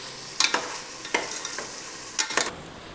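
Mushroom pulao being stirred and mixed in a pan, with intermittent scraping and clattering strokes over a soft sizzle, close and fairly quiet, no talk.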